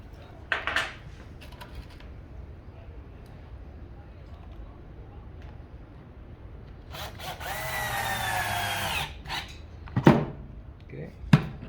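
A power drill drives a screw while fixing a DIN rail: a rising, steady whine of about two seconds, close by, followed by a few sharp knocks and clatters of handling.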